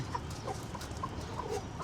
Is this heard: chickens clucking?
yes